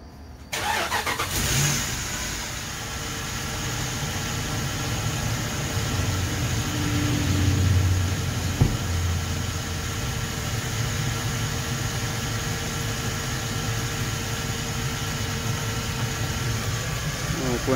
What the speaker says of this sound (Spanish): Vamos a arrancarlo para ver si todo está bien.